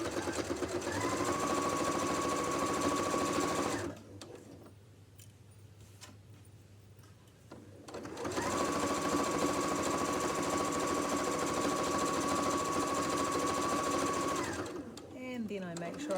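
Close, loud sewing machine stitching an apron pocket in two runs with a short pause between, a rapid mechanical chatter and whine, ending with back stitching and then a soft rustle of fabric.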